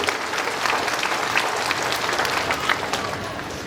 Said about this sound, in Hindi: स्वागत के तौर पर हम जोर से ताली बजाते हुए उनका हार्दिक अभिनंदन करते हैं।